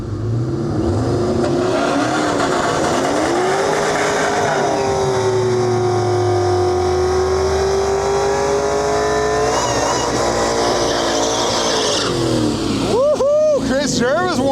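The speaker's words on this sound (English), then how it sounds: "Chris Jervis warming those tires up for us." A diesel drag racing vehicle warms up its tires at a drag strip, its engine rising in a long loud revving pitch before dropping away, with talk running underneath.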